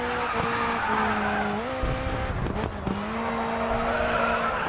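Race car in the video game Grid 2 oversteering on a corner exit, a steady engine drone with shifting pitch and tires squealing and skidding loudly throughout.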